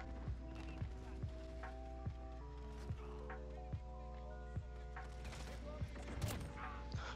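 Desert Eagle pistol shots fire through a wall in Modern Warfare. Sharp, evenly spaced shots repeat over music, ending in a messier burst of impacts.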